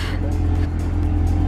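A custom-wrapped Corvette C8R idles and creeps forward with a loud, steady low engine rumble close by.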